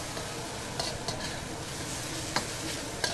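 Korean-style fried rice gets stirred in a pan over a faint, steady sizzle, broken now and then by soft ticks of the utensil scraping and tapping the pan.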